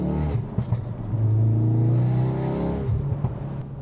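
Ford Focus RS Mk3 Stage 2 accelerating on the road, its engine revving loudly in a steady rising drone with exhaust pops and crackles, heard close from inside the car.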